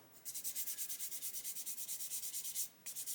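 Gentle, rapid back-and-forth sanding strokes on the plastic of an Airfix 1/72 Lancaster B.III kit, close and quiet, about seven rhythmic rubs per second with a brief pause near the end.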